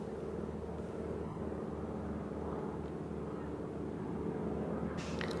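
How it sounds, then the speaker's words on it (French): Droning radial-engine hum of a Boeing Stearman biplane's 450-horsepower Pratt & Whitney, a steady, fairly loud low rumble holding throughout, most likely from a fly-by at an airshow with a wing-walker aboard. "Au son inégalable du moteur en étoile Pratt & Whitney de 450 chevaux"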